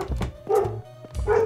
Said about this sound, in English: It's gonna keep barking.